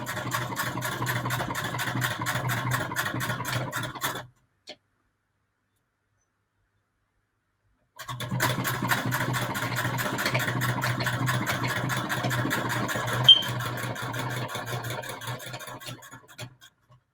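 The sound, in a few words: sewing machine stitching hand-dyed patchwork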